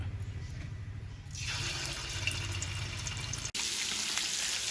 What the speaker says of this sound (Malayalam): അപ്പോൾ നമ്മൾ മീൻ കഷ്ണങ്ങളൊക്കെ ഇട്ടിട്ട് മീൻ പൊരിക്കാൻ വേണ്ടി വെച്ചിട്ടുണ്ട്.